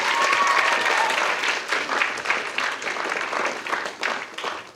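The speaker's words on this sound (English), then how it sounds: "So give them a round of applause" Audience applause fills a school Writers Week event, a dense, sustained clapping from a large crowd that stays loud throughout before thinning slightly toward the end.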